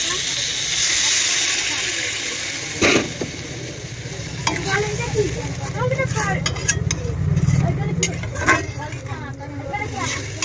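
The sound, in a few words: water poured into a hot cooking pot, hissing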